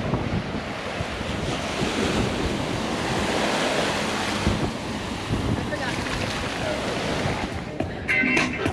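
Ocean surf rolls steadily onto a beach at Isla Mujeres near Cancun, a continuous broad wash of breaking waves mixed with gusty wind buffeting the microphone, with no voices.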